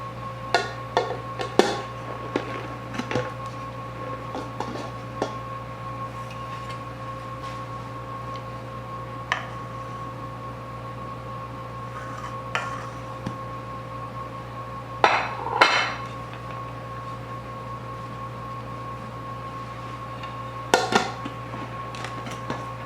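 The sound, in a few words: removing cooled cakes from the baking pan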